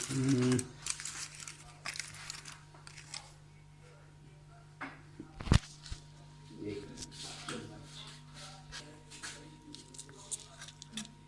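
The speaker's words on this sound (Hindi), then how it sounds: "जो हमने पुड़िया में पन्नी में 2 पीस बनाए थे वो हम आपको खोल के दिखा देते हैं" A foil packet wrapped around two pieces of steamed chicken is opened by hand, giving intermittent crinkling and rustling bursts over a low steady hum, with a sharp knock midway and a faint voice in the background.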